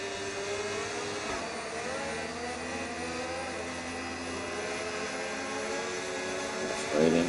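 A racing car engine screams at full throttle in a video game race in Brazil, a steady loud high-revving drone with harmonic whine throughout, rising slightly louder near the end.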